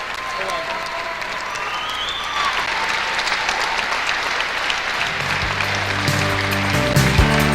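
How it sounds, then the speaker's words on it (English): Sustained audience applause at a men's volleyball match honoring three seniors, a dense steady wash of clapping that swells slightly toward the end as deeper crowd noise joins in. "please give one last round of applause for our 3 seniors"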